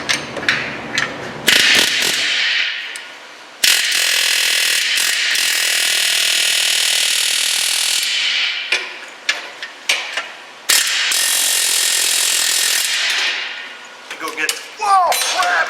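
An air impact tool hammers loudly on a socket in long rattling bursts during a Mazda Miata MX-5 clutch replacement, broken by clanks and short pauses, close by with a harsh metallic chatter.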